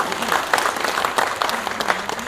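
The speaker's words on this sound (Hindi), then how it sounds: "लेकिन आप ताली बजाकर फंस गए हो" Audience at a national theatre festival claps in a brief burst, dense crowd applause with some voices mixed in underneath.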